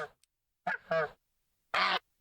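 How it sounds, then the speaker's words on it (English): In Minecraft Bedrock with the BiomeCraft add-on, a goose gives three short, nasal honks at close range in quick succession, separated by brief silences. "And then a goose."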